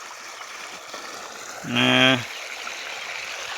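Irrigation water flows steadily into a summer sorghum field, a continuous rushing, streamlike wash that runs throughout, with a short spoken word briefly rising above it near the middle.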